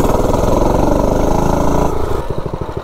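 A homemade mini bike engine built from spare parts runs loud and close, a steady buzzing drone that drops into slower, choppier firing pulses near the end.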